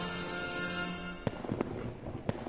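In a video game, a steady tonal hum gives way to several sharp firework pops and bangs at irregular intervals, fairly faint.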